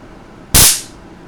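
A single sharp, loud crack of high-voltage electrical discharge from a wireless energy transmitter running at millions of volts, a short burst with a brief decaying tail, alone against quiet background.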